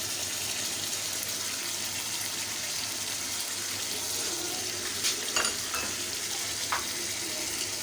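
Balochi tikka karahi masala sizzles in a pan with a continuous frying hiss, joined by a few brief clinks and stirring sounds near the end, close and steady without speech.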